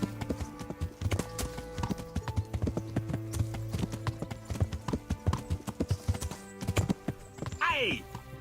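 Horse hooves clip-clopping in a steady trotting rhythm while riding in Kingdom Come: Deliverance, close and continuous, with a horse whinnying near the end and other game sounds in the background.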